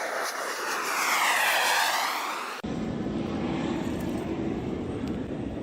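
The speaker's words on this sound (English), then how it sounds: "Hang on one second while this airplane goes by." A propeller airplane drones overhead above a backyard garden, its engine loud and sweeping in pitch as it passes, then giving way to a steady broadband outdoor wash.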